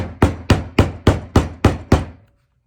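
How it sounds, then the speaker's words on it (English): Seven quick, evenly spaced hammer taps on a wooden door hanger, loud and close, ringing briefly before stopping. "And then I usually just take my hammer,"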